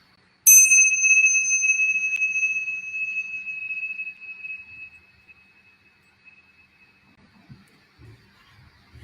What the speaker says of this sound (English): Ring the bell, bring us in.